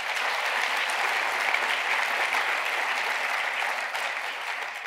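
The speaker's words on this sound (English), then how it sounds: "Let's have a round of applause for them." An audience at a drug policy reform conference in Washington, D.C. applauds the earlier speakers, a dense, even wash of clapping that holds steady and fades slightly toward the end.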